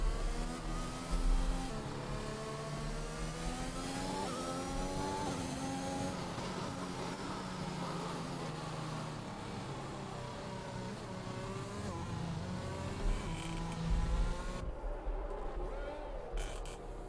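Aston Martin Formula 1 cars in a racing video game at the British round, their engines whining and shifting pitch steadily throughout, with a commentator talking over them.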